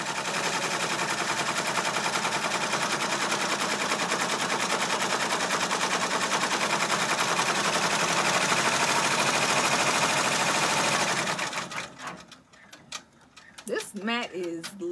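A Brother PR655 embroidery machine stitches a bath mat with a loud, rapid, continuous mechanical rattling for about eleven seconds, then stops abruptly, leaving quieter clicks and handling noises.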